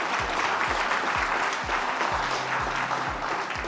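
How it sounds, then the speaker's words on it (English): Audience applause at an honoring ceremony for a food justice champion, a dense, steady wash of clapping that stays loud and even for several seconds, with no talk over it. "So give yourselves a big round of applause."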